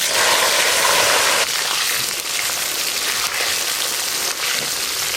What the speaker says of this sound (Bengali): ওই একই তেলে লবণ হলুদ ছাড়াই বেগুনগুলো হালকা করে ভেজে নেব।